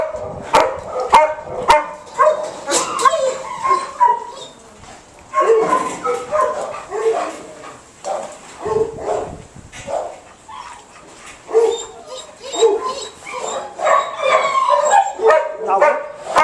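A German Shepherd meeting a pack of dogs, with repeated barks, yips, whimpers and a howl in uneven bursts, near and loud, a person talking between them.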